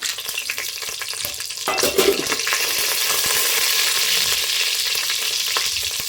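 Whole cinnamon, cloves and cardamom drop into hot oil reused from frying mushroom kebabs, giving a quiet hiss that jumps to a loud, steady sizzle and crackle that continues alone.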